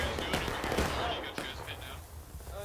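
Musket volley gunfire in the Civil War game War of Rights, a ragged burst of sharp cracks overlapping at close range, then thinning into scattered distant shots over a steady background din with voices.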